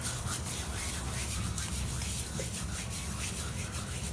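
Dried kasuri methi fenugreek leaves are crushed between the hands over a dish of besan and yogurt batter, giving a steady, close, dry rubbing and crackling rustle that runs without pause.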